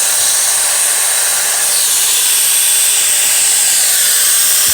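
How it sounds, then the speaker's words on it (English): Power screw gun driving screws through sheetrock into metal studs, a loud continuous high-pitched whir held steadily for several seconds, close up with no talk. "That screw gun is designed to make putting on sheetrock onto the material very fast and efficient."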